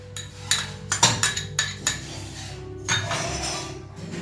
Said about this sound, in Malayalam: നമുക്ക് ഈ പച്ചക്കറികളെല്ലാം നല്ലതുപോലെ ഒന്ന് മിക്സ് ചെയ്തെടുക്കാം